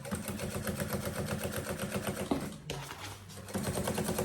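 A domestic sewing machine stitches a banana bag with a fast, steady mechanical chatter that pauses briefly partway through and then resumes at the same rapid pace, heard up close without any talking.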